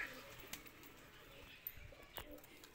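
Soft pigeon coos come and go against a faint outdoor background, with a few light clicks and flutters.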